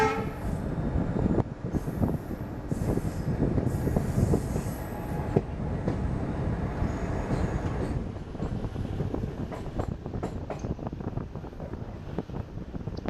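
A long freight train hauled by twin WAG5 locomotives rumbles past close by in India, with steady clattering wheels and metallic clicks over the rails. No voices are heard.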